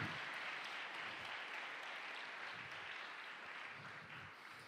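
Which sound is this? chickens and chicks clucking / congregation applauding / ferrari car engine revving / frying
congregation applauding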